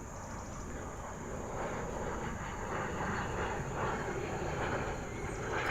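A plane passes overhead outdoors in the UK, a low steady engine drone that swells slightly over several seconds beneath broad background noise, with no talking.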